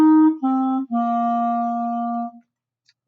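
A clarinet plays three sustained tones in a row, each held steady with rich overtones, the last held longest before fading to silence; it sounds close and alone, with no talk.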